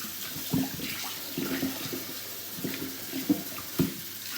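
Oxtails rinsed under lukewarm running tap water in a sink, a steady soft splashing stream with a few louder splashes and clunks as the meat is handled, close by with no talk.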